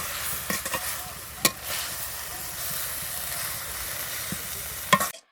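Drumstick leaves with tamarind and a little salt fry in a pan. A steady soft sizzle runs throughout, with a spatula scraping and a few sharp clinks against the pan.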